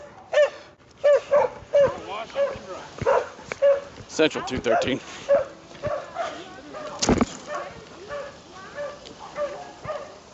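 A police drug-sniffing dog barks in short, repeated bursts during a car search, its yips and barks landing close and fairly loud while handler commands and radio chatter run over and between them.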